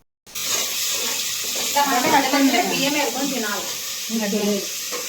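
Chopped tomatoes sizzle loudly in a pan with ginger garlic paste, a steady close frying hiss with bursts of crackling and stirring; a voice talks over it.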